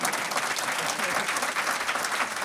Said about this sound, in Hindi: हर जगह आपने सही मौके पर ताली बजाई।